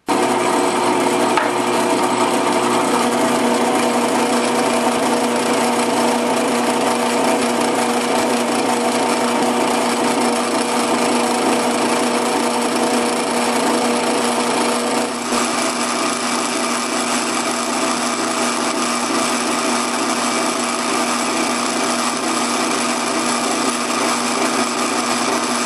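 Walter drill bit boring through a hard steel shaft, a loud steady machine whine and grinding that runs without a break for the whole stretch, with only a slight shift partway through.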